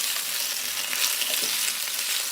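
Parboiled potatoes fry in hot oil in a pan as they are stirred, making a dense, steady, hissing sizzle heard close up with no speech.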